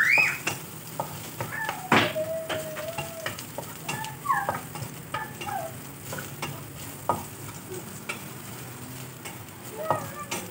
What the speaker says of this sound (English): Fry until it's red.